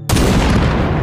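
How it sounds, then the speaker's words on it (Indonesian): A loud, booming sniper rifle shot from a film scene, sustained and dense with rumbling reverberation that fills the whole moment, with no voices. "Thomas berhasil menembaknya tepat mengenai kepala Phoenix tanpa Brandon terluka sedikit pun"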